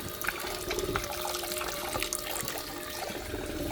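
Water pouring through a gold sluice box into a gold pan hung beneath to catch runoff, a steady close splashing rush that continues for several seconds with no talk.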